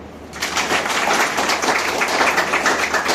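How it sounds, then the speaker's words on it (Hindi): An audience breaks into applause at a motivational talk, a dense, even wash of clapping that starts abruptly and holds steady, close and loud, with no voices over it. "ताली हो जाओ"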